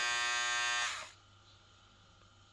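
A VGR V332 motor spins at high RPM with a loud, steady, high-pitched electric whine for about a second, then switches off and quickly winds down to near silence.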